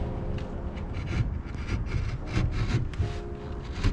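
A utility knife cuts through drywall in a Canadian home emergency repair, giving close, repeated scraping and rasping strokes in an uneven rhythm for several seconds with no talking.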